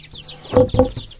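Two-week-old broiler chicks in their pen, a couple of quick bright chirps and soft clucks close by, with a faint low voice underneath.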